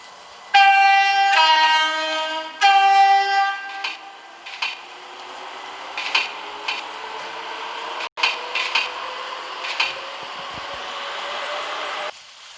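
A Class 379 electric train departs in the Roblox Ro-Scale Railway game, sounding two loud horn blasts before rolling away with rhythmic wheel clicks and a rising electric motor whine that runs on steadily.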